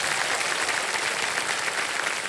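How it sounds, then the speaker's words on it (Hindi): A studio audience on a TV quiz show set claps in a dense, steady burst of applause, even and sustained with no pauses, heard without speech over it. "तालियां बज जाए इनके लिए"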